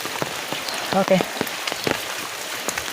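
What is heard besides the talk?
light rain falling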